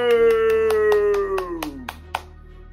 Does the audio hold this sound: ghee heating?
no